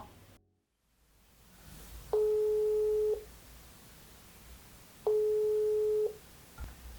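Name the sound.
phone call tone over speakerphone, SoundPeats Capsule 3 Pro test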